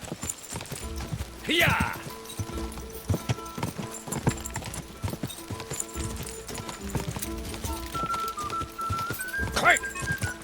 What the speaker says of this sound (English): And this horse is fast